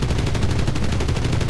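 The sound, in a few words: rockets fired at a tank in the video game Enlisted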